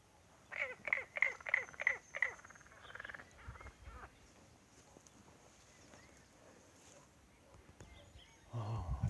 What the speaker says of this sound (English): I think it's a frog.